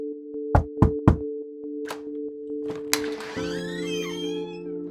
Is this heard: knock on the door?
yes